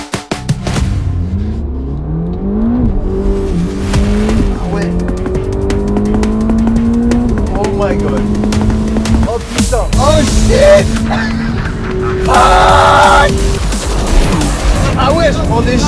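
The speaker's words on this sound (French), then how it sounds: "Et là, on va tester la voiture. On va aller à 150 km/h avec la force centrifuge." A Ferrari accelerates hard around a banked NASCAR circuit. The close, loud engine climbs in pitch through several gear changes, with tire noise and occasional voices inside the car.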